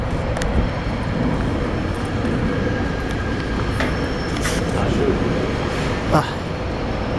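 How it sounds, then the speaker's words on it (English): An outbound subway train rumbles into Jefferson Station in Center City, Philadelphia, with a steady, loud roar that fills the space, and a brief sharper screech rises near the end. "there's an outbound train right there. I hear one coming."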